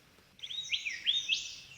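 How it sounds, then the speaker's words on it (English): Eastern whipbird calls ring out in a quick run of sharp, whistled sweeps, moderately close against quiet background. "only our whip birds."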